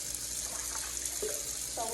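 A kitchen tap runs a light stream over flour dough being rinsed for seitan, a continuous splashing hiss with small bursts of handling noise.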